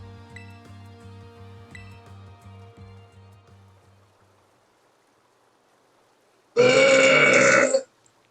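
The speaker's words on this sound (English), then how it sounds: "Big burp." A single big, loud burp bursts out near the end, alone, after game music and faint background sound fade to near silence.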